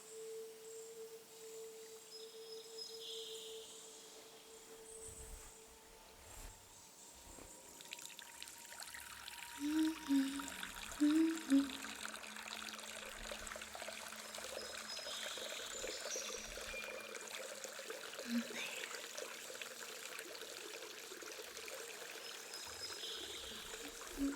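Water pours steadily into a tub, a soft continuous rushing that grows fuller, with a couple of brief clunks near the middle.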